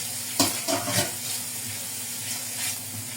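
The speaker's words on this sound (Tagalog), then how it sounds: "Pagkahuman, atong igisang atong bumbay." Chopped onion and garlic sautéing in a pan, a steady low sizzle with a few soft stirring scrapes near the start, continuous and close with no voices.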